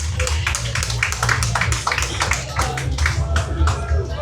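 An audience claps at a public assembly session during a political festival, thanking a speaker: sustained, dense applause from a sizeable crowd, with individual claps standing out and faint voices underneath.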